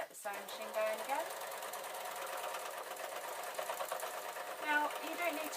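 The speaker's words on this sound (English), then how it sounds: "So let's get the sewing machine going again." A sewing machine runs steadily, stitching a small fabric tote bag, a fast mechanical rattle near at hand, broken by brief pauses and faint creaks.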